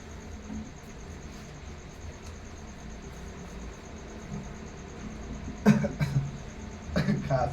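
A few short, sharp coughs burst out near the end over a quiet background hum, coming in two quick clusters.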